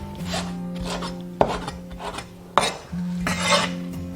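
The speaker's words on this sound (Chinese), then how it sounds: "然后给它切成小段，" A kitchen knife chops soaked glass noodles into short pieces on a cutting board, a few sharp, close chops with scraping between them over a steady background hum.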